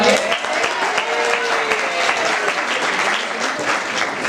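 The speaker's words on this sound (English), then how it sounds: "we're going to give a big round of applause" Applause from the audience at a Chanukah magic show, steady dense clapping filling the room for several seconds with a few faint voices mixed in.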